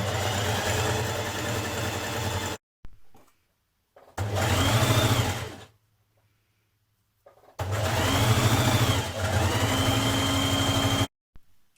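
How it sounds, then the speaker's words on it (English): A sewing machine stitches a jersey hood seam in three bursts of loud, fast whirring motor hum separated by pauses of near silence. "you're going to sew down that side seam"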